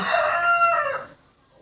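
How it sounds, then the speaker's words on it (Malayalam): A rooster crows once, loud and close, the long call holding for about a second before trailing off into silence. "അത് അപ്പുറത്തുനിന്ന് കോഴി എന്നെ ശല്യം ചെയ്യുന്നുണ്ട്"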